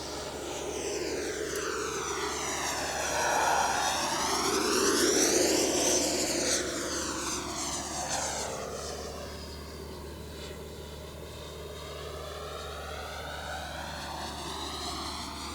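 An FMS Avanti 90mm electric ducted fan model jet whines loudly past, its high-pitched fan pitch rising and falling as it swoops near and then banks away, continuous throughout.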